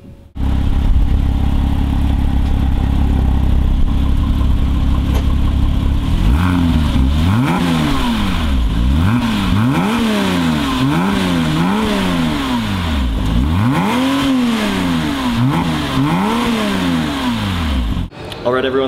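A 2008 Porsche Cayman S engine revs repeatedly in rising and falling sweeps, its exhaust roaring loud and close after a steady idle, with no voices over it.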